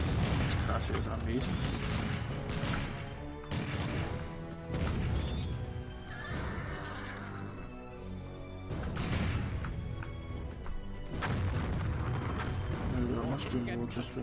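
Cannons firing in a Napoleonic-era battle in the Empire Earth strategy game, heavy booming blasts and crashes in repeated bursts, loud and dense, with battle noise filling the gaps.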